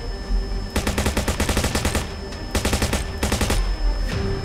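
Rapid automatic gunfire in a sci-fi shooter game with dinosaurs and drones, two loud sustained bursts of evenly spaced shots, close and dominant, with no talking.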